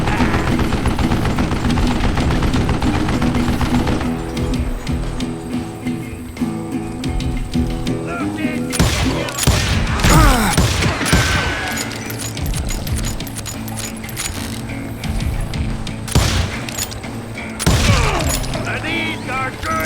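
A mounted gun blasts away in Call of Juarez Gunslinger, loud rapid bursts of gunfire that keep hammering with short gaps, set over a dense, continuous game soundtrack.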